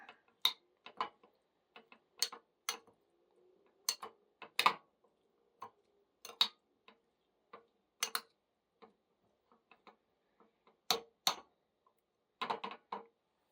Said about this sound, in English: Just kind of stir it up there.